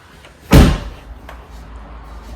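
A single loud door slam, a sharp heavy bang that fades quickly into a quiet room.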